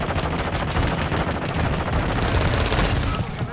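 Mortar strikes in Call of Duty: Modern Warfare II, a dense rapid barrage of loud overlapping blasts and gunfire-like cracks in a continuous roar, with no clear speech.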